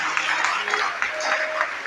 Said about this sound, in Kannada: ಜೋರಾಗಿ ಚಪ್ಪಾಳೆ ತಟ್ರಿ ಅವ